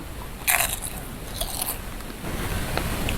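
Crunchy fried beef-fat chips, seasoned with lemon, get bitten close to the mic: a sharp crisp crack followed by a few quieter crunches and chewing.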